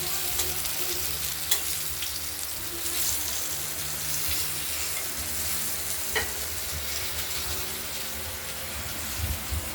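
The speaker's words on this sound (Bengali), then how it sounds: "পটলগুলো ভাজা হচ্ছে" Pointed gourd (potol) slices fry in a pan of oil, giving a steady, dense sizzle throughout with a few brief clinks and stirring scrapes, close and fairly loud.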